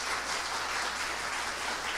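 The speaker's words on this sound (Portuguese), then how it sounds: "aplauda o Senhor Jesus" Church congregation applauding in praise of Jesus, a steady wash of many hands clapping together, fairly even and continuous but moderately soft, with no talking over it.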